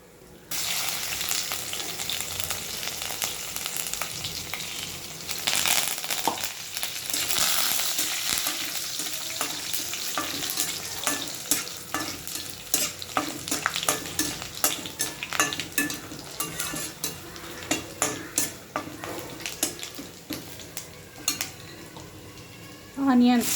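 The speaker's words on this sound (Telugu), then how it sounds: "ఇప్పుడు అదే ఆయిల్లో పోపు చేసుకోవాలి" Spices tempering in hot oil for a Telugu bitter gourd (akakarakaya) fry, sizzling steadily and loudly while a spoon stirs and scrapes the pan, with clinks of metal utensils throughout.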